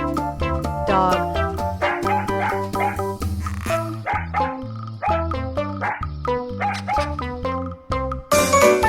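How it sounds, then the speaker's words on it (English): A dog barks over steady, upbeat background music, with the barks partly blended into the melody. "Dog."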